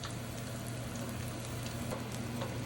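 Bacalaíto codfish fritter frying in shallow oil with a little oil spooned over the top, a continuous close bubbling sizzle with a low hum underneath and no speech.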